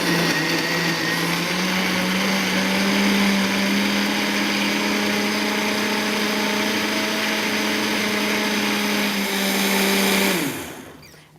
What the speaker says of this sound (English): We're going to turn the blender on.